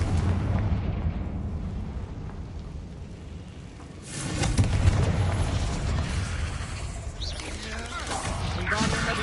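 Confringo spell blasts in Hogwarts Legacy, a deep booming burst that swells midway and rumbles on under noisy game effects, moderately loud.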